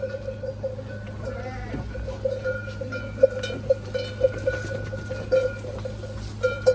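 Sheep bleat now and then over a steady low hum, with scattered cowbell clinks in the background during sheep bathing; no one speaks.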